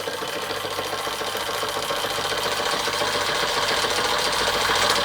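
A Marklin 4122 hybrid model steam engine with sloppy crankshaft bearings running steadily up close, giving a rapid, even mechanical chuffing and clatter that grows slightly louder over time.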